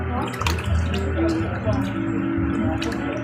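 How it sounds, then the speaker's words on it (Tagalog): A garden faucet is opened and water runs and splashes steadily nearby, while a person talks over it. "Tapos, buksan natin ang gripo."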